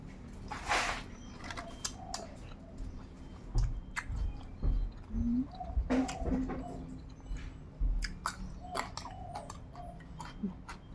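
Small sticky-rice balls with fermented fish being bitten and chewed up close, with soft wet smacks and clicks scattered irregularly and faint background sounds between them.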